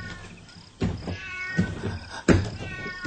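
A cat meows several times in short, separate calls, fairly close and clear, with no talking.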